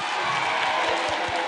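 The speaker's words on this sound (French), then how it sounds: "Applaudissez pour vous-même." Campaign rally audience in Guinea applauding, a dense, steady wash of clapping and crowd noise with low thumps repeating beneath it, moderately distant and continuous.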